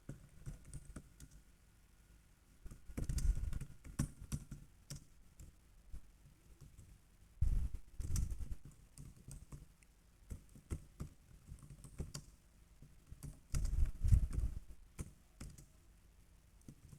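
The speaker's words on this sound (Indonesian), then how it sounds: "Kita ketik dengan huruf besar." Computer keyboard keys tapped in a few short, quiet bursts separated by pauses, close up and without talk, while a title is typed in capital letters for a letterhead in an Office course.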